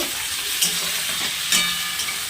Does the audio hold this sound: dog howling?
no